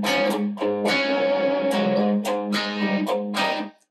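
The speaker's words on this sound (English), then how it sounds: "you can dig in a little harder and pull a lot more distortion out of this situation" Sire T7 electric guitar through an amp's distorted channel, played as a short run of loud, sustained distorted chords and notes with clear attacks, ending in a quick fade, no voices.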